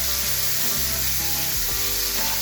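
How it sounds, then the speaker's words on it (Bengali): Sliced onion and a split dried red chilli sautéing in oil in a pan for Kerala-style fish, a steady close sizzle with scraping stirs of a spatula, no voices. "একটা শুকনো লঙ্কা চেরা দিলাম, দিয়ে একটা মিডিয়াম সাইজ আর অর্ধেকটা আমি পেঁয়াজ স্লাইস করে কাটা পেঁয়াজ আমি দিয়ে কষাতে থাকছি।"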